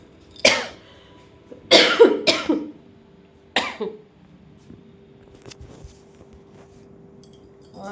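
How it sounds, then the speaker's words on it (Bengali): A woman with a lingering cough coughs in about four sharp, close bursts, some in quick pairs, between quiet stretches with faint kitchen clinks. "আমার সে কাশি এখন হয়েছে"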